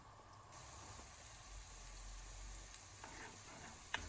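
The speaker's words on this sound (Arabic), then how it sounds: "وهلأ بجيب التومات يلي دقيتهم بحطهم مع معلقتين تقريبا زيت ذرة، بقليهم" Crushed garlic frying in about two spoons of corn oil gives a soft, steady sizzle and hiss, fairly quiet, with a few faint clicks near the end.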